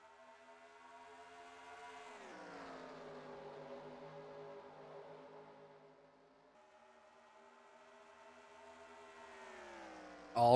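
Race cars in a racing video game at the start of a Mountain Dew Custom Series race in Michigan. A steady, distant whine of engines rises and falls in pitch as they accelerate, and a sharp burst cuts in at the end.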